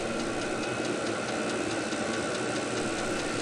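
A VEVOR Chinese diesel heater runs steadily on a test run, giving a continuous mechanical hum with a fast, faint rhythmic ticking from the pump throughout, with no talk.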